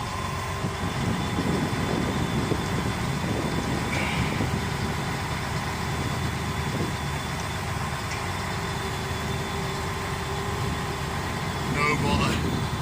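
A Foden 6x6 recovery truck is put in gear to haul a stuck eight-wheeler crane truck free. Its diesel engine drones steadily and close throughout at a constant labouring note, with brief clanks over it.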